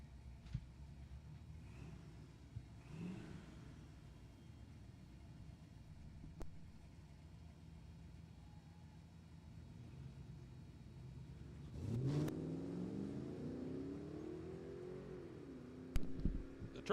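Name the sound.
truck and white Chevy launching at a drag race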